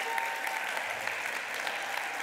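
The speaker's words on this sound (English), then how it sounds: "Yeah, go ahead and clap." Church congregation applause welcoming a new staff member, a dense, even patter of clapping at moderate level that continues steadily throughout.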